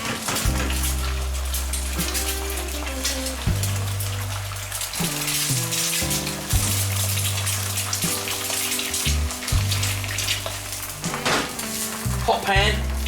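Eggs fry in a hot pan for retro-style bubble and squeak, giving a continuous crackling sizzle close up with occasional sharper pops, over a steady low background tone.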